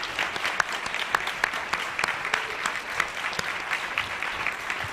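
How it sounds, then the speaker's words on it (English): Luncheon audience at the National Press Club applauding a guest speaker, sustained crisp clapping from many hands with no talking over it. "How about a round of applause for our guest speaker today?"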